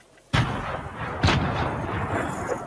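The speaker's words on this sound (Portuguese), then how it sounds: "Joguei granada ali." Grenade blasts in a Fortnite match arrive as two sharp, booming explosions about a second apart, each followed by a rumbling tail, loud and close.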